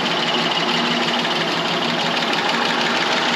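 A frame-off restored 1934 Chevrolet Master Deluxe six-volt engine idling smoothly and steadily, a close, even, continuous hum with no misses or odd noises.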